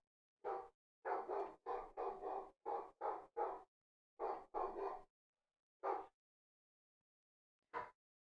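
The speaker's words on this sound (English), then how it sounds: "just a little barker," A small dog barks in short, sharp yips, with about a dozen barks in uneven bursts, some in quick clusters and a couple of isolated ones, fairly close and otherwise quiet between them.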